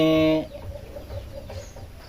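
A newly hatched alimokon chick, close by, gives one loud piping call, then a series of faint, soft peeps over quiet background.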